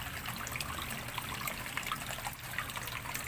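Spring water bubbling up, a soft continuous burbling trickle with small gurgles, fairly faint and close, no voices over it.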